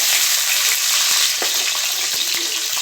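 Small shallots fry in hot oil for a curry-leaf kuzhambu, a loud, steady close-up sizzle with a few faint ladle taps underneath, no voices.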